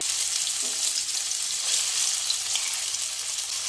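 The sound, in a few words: frying soybeans in hot mustard oil in a wok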